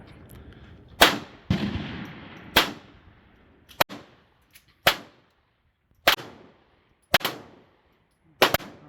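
Glock 44 .22LR pistol fires through a magazine: about nine sharp, close cracks at uneven intervals, each trailing a brief echo, with silence between shots.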